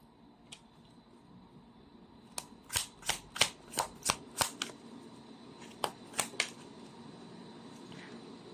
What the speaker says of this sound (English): let's try to pull up another set of cards